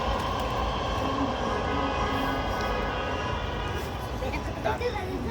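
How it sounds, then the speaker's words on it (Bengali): A Dhaka metro rail train passes by, heard from an open rooftop as a steady loud rumble and whine throughout, with people talking over it. "ওই যে মেট্রো রেল যাইতেছে, মেট্রো রেল।"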